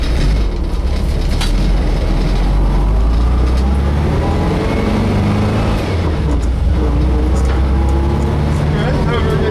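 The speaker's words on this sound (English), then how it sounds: "A while since we went for a ride in the old bus" An old bus rumbles along during a ride, its engine droning low and loud with road noise and rattles, while someone talks over it close by.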